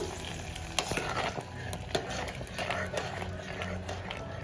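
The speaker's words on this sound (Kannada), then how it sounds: "ಚೆನ್ನಾಗಿ ಒಂದು ಸಲ ಕಲಿಸ್ಬಿಡೋಣ" A spoon stirs wheat payasam (godhi huggi) in a pot, producing close, irregular scraping strokes over a soft bubbling sizzle.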